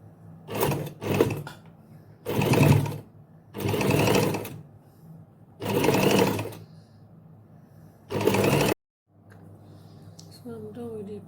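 A sewing machine stitches fabric in several short bursts, each a loud rapid rattle lasting about a second, separated by pauses, with a brief quiet gap near the end before light handling noise.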